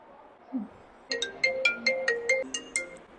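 A mobile phone ringtone plays a bright, repeating electronic melody of evenly spaced tones, loud and close after a moment of near quiet, with no voices over it.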